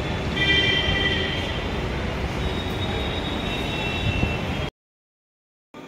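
A metro train rumbles into a station, a steady loud rolling roar with faint high wheel squeal, cutting off abruptly before a short return of noise.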